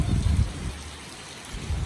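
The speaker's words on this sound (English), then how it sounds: "even though it is December, but it still rains." Rain falls steadily on a street in Cambodia in December, a close continuous hiss with low rumbling swells at the start and end.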